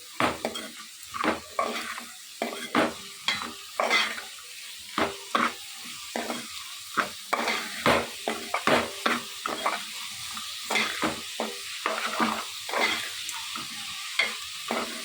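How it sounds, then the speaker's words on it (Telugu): Onions frying in a pan with rock salt and turmeric while being stirred for a dried prawn and egg curry, with repeated scraping and clinking stirs over a steady sizzle, close and alone. "ఈ మొత్తం ఆనియన్స్ అన్నీ కూడా గోల్డెన్ కలర్లోకి వచ్చేంత వరకు ఫ్రై చేసుకోవాలి."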